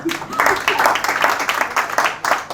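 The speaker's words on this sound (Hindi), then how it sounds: "बजाओ ताली तो बजा दो।" A comedy-show audience breaks into applause, a dense patter of clapping that rises and falls in waves, with a voice talking over it.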